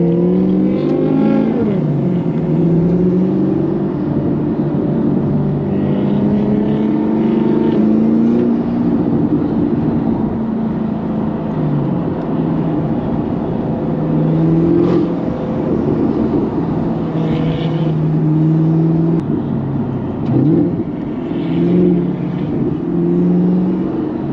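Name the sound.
Nissan GT-R cars driving on city streets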